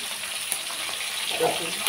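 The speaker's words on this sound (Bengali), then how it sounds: "মাছ ভাজছি" Fish sizzling and frying in a pan for a fish curry, a steady broadband crackle throughout at moderate level, close by, with no talking.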